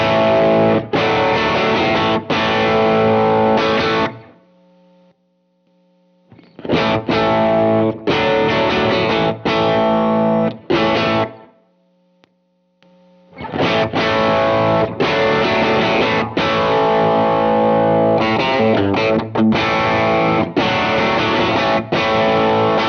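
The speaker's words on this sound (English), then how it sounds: "So here's what the Benson sounds like as my stage 2 drive." Electric guitar driven through a Benson overdrive pedal set as a second-stage drive, giving a thick, distorted rock tone; loud chords and riffs come in three bursts separated by short silent gaps, with no talk.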